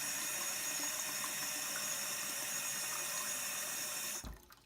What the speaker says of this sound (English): I'm just going to fill it with tap water